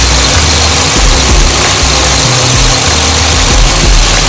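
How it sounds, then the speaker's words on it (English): A car engine idles steadily and loudly for a few seconds after running for a long stretch, a low rumbling drone with faint periodic pulses and no voices. "Alright, it's been idling for like half an hour now."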